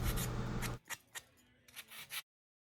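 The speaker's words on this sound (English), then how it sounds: "I sanded the rough edges down to make it look smoother." Quiet hand sanding of a small square wooden block's rough edges, a steady scratchy rub for under a second followed by a few brief, soft scraping strokes, then silence.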